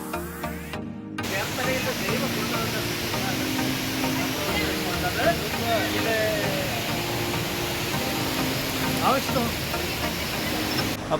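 Vazhvanthol waterfall in a dense Kerala forest roars as a steady, loud wash of falling water, continuous and broadband throughout, with no other distinct sounds standing out.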